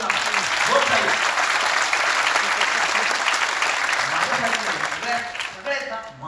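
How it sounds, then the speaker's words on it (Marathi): A seated crowd at a talk on Shivaji's leadership claps loudly and continuously for several seconds, with a voice speaking over it, and the clapping thins toward the end. "एक एक मावळा बिंदास टाळ्या वाजवतो, तुम्ही थांबू नका."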